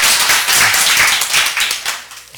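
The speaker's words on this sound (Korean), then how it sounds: "우리 박수하겠습니다." Church congregation clapping to welcome a returning deacon during a Sunday service, a burst of many hands applauding in a hall that fades and thins toward the end.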